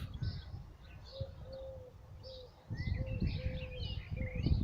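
A bird coos repeatedly in steady, drawn-out phrases, while other birds chirp and twitter higher up over a low, rumbling outdoor background.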